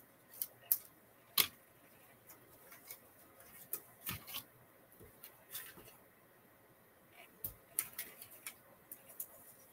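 Scissors snip paper while a pop-up window card is made, a string of faint, quiet cuts and small clicks spread unevenly through a hushed room.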